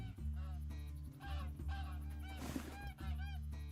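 Geese honking in the Call of the Wild hunting game: repeated loud honks and calls from a flock over a steady low background hum, with one sharp burst partway through.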